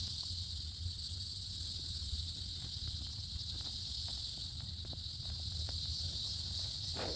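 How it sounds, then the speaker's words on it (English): Cicadas buzz in a constant high-pitched drone, fairly faint and steady in the background, with light rustling and no talking. "You can hear the cicadas in the background."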